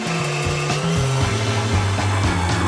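A blender grinds candies into sweet sprinkles, a loud, close motor whirring steadily with shifting pitch and rattling chunks throughout.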